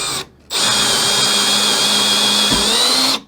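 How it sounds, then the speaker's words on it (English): A power drill fitted with a 3/8 bit bores straight through a wooden door jamb, running as a loud, steady high whine for about three seconds after a brief start, then spinning down. "I've got my drill here with a 3/8 bit, and let's just go right through this center hole"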